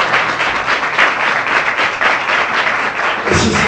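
An evangelical church congregation applauds during a sermon, steady dense clapping at full volume throughout, with a brief louder swell near the end.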